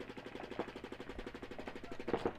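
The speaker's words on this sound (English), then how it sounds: "try and just listen for gunfire shooting at you" Rapid paintball gunfire during a tournament game at an outdoor field, a fast continuous string of sharp pops, fairly faint and distant, with no voices.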